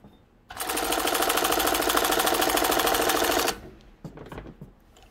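A Speedway SW-1341VS sewing machine stitches through denim jeans in a loud, steady three-second run of rapid needle chatter, then stops abruptly, followed by a few faint handling clicks.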